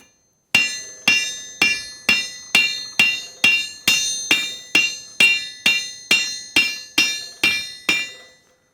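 A hammer strikes a hot steel hook being forged, sixteen sharp ringing blows in an even, steady rhythm, each ring decaying before the next, loud and close with no talk.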